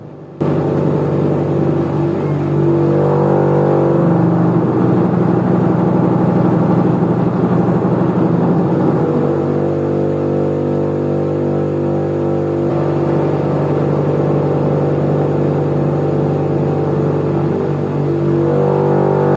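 A motorised fan machine running steadily while winnowing rice paddy in a village yard, a loud continuous droning hum with shifting tonal layers and no pauses for the whole stretch.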